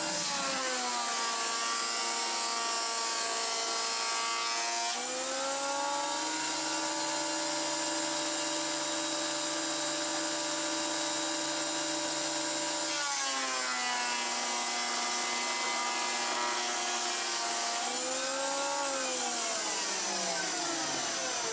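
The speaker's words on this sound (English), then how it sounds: "going to keep feeding it through the planer now" A thickness planer whines loudly and steadily as a small piece of wood for a fidget spinner feeds through, the motor pitch dipping and shifting with each pass over about twenty seconds.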